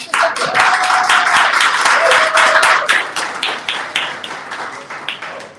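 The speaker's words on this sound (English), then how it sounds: "I'd like to welcome our guests on stage with a big round of applause." An audience applauds to welcome guests onto the stage at a bookstore event, with a loud, dense burst of clapping that gradually thins out and fades toward the end.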